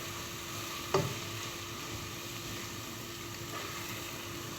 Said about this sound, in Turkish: Azıcık soğanımızı, çektiğimiz şeylerimizi bir soteliyoruz.